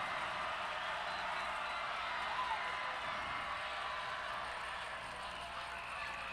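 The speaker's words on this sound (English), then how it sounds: "Crowd making some extra noise here." Crowd noise at a varsity high school football game, Morgan vs Green Canyon, a steady distant roar of many voices filling the stadium without letup.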